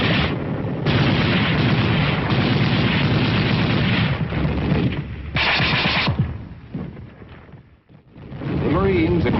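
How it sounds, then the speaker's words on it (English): Gunfire from foot soldiers on a Korean War ridge line erupts in dense rapid bursts and heavy blasts, loud and crackly in an old film soundtrack, mixed with narration and a short lull near the end. "foot soldiers unleashed their fire"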